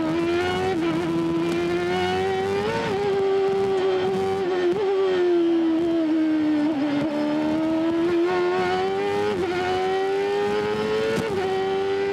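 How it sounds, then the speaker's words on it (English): Bobby Rahal's CART race car at Mid-Ohio in 1995 screams at high revs through a sequential shift transmission, its engine pitch dropping sharply at several quick gear changes before climbing again, loud and continuous. "these are a sequential shift transmission, much like a motorcycle"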